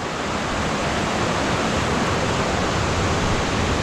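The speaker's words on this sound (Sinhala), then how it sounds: "ආ, අතනින් වතුර පාරක් වැටෙනවා" Water falling in a steady stream, a constant broadband rush that stays loud and unchanging throughout with no voices.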